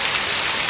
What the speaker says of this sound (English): I guess the rain is thrilling.